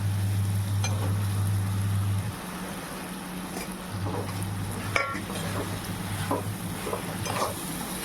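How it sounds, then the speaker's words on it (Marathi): Fried potatoes and cluster beans tipped into a simmering gravy in a pan for a Marathi gavar bhaji, with a steady soft sizzle and scattered light scrapes and clinks of stirring close by. "तर आपण आता त्याच्यामध्ये घालूया आपली फ्राय केलेली बटाटा आणि भाजी"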